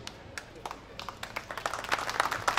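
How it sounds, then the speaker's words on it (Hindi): Scattered claps from an audience at a political speech in Mira Bhayander, faint at first and growing into denser, livelier applause toward the end. "ये तालियां बजाने वाली बात नहीं है"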